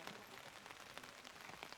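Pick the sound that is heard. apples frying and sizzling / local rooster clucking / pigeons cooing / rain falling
rain falling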